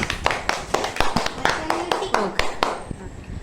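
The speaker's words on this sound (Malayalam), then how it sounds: "എല്ലാരും ഒന്ന് കൈയടിച്ചേ" Children clap their hands together in a loose, uneven burst of a dozen or so sharp claps, close by, with voices talking over them.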